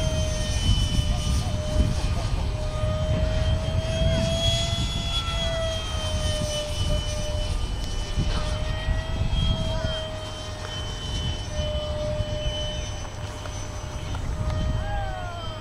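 Dynam 70mm EDF Meteor radio-controlled model jet in flight, its electric ducted fan giving a steady whining whoosh with rising and falling tones as it passes, heard under outdoor wind noise while people talk.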